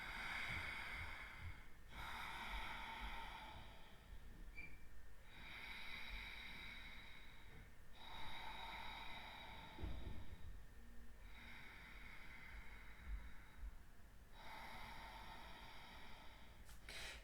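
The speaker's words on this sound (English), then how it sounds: "Ujjayi breath, on the other hand, we're going to inhale and exhale just through the nose." Slow nasal ujjayi breathing, inhaling and exhaling only through the nose, gives a raspy, airy hiss in long, even breaths, roughly five or six cycles separated by short pauses, close and steady with no talking.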